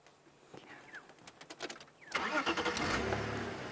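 A safari vehicle's engine cranks with clicks, catches and settles into a rough running rumble as it starts moving forward, close by and growing louder.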